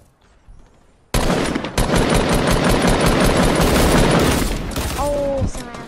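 Video game gunfire in a squad battle royale match: a sudden loud, sustained burst of rapid automatic shots that runs for several seconds before tapering off, with brief tonal game sounds near the end.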